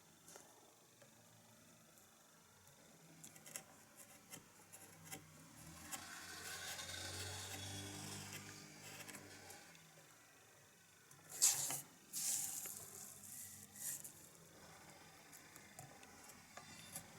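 A carving blade works a wooden swallow tail feather with faint, soft scraping strokes, swelling in the middle and broken by a couple of sharper scratches near the end.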